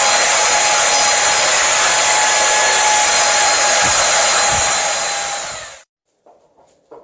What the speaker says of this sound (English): So just take the belt sander.